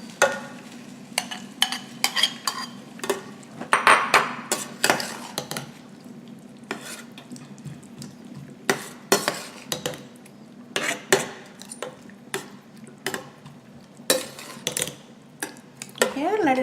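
Tomato sauce stirred into a pan of cooked vegetables for spring spaghetti, sharp intermittent clinks and scrapes of a utensil against the pan with a soft sizzle between.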